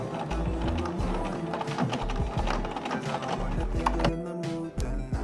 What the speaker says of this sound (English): I'm literally stitching along the line of where the embroidery is to kind of hide this attachment